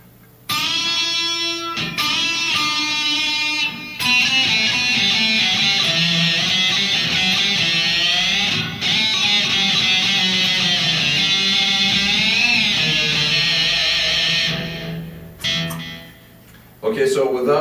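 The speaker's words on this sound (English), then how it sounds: "I'm using a Digitech Whammy pedal, which has a harmonizer" Electric guitar solo with a distorted metal tone, harmonized in fourths through a Digitech Whammy pedal; sustained bent and vibrato notes ring loud and continuous for most of the clip, then briefly cut out near the end.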